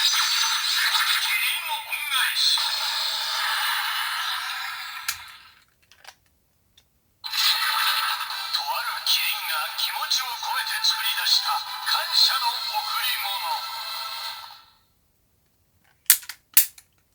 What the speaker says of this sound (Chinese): 我们来听一下启动音效